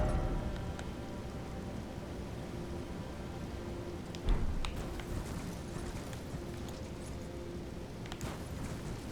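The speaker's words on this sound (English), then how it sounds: "It's raining, so they're less likely to hear me." Steady rain in the Elden Ring video game, a soft continuous hiss of falling drops with a few faint thuds and footsteps over the top, fairly quiet and without talking.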